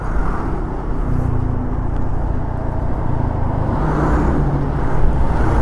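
A truck rumbles on an Indonesian rural road heard from an old Honda Vario motorbike, with steady loud engine and road roar and wind throughout, no pauses.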